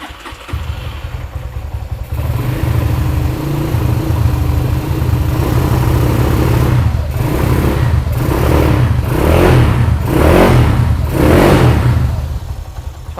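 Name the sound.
Honda CB100 motorcycle with 250cc engine revving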